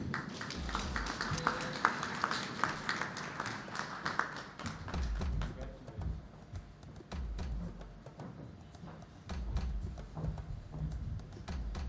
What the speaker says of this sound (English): Please, a big round of applause there for the winner, Stuart Bank.